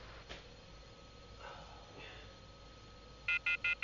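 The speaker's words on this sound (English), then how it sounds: "Calling poison control right now." Telephone keypad dialing tones, four short evenly spaced beeps near the end after a stretch of faint hiss and distant murmuring, clear and close.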